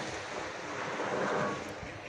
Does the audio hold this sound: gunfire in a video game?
no